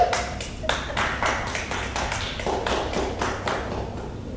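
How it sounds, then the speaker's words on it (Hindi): A small group of people claps steadily together for a newly married couple's face-revealing ceremony on a TV serial set, the hand claps sharp, close and evenly paced for several seconds, with no talking. "बजाओ ताली"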